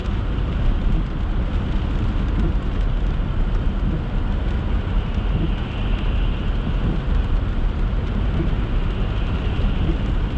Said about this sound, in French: Ça va être de la pluie de même toute la soirée